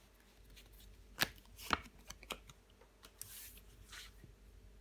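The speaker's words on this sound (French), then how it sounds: "Je recouvre le 8 d'épée." A tarot card is laid down over the eight of swords in a quiet room, giving a few soft, papery slaps and rustles, the clearest two close together and followed by lighter shuffling.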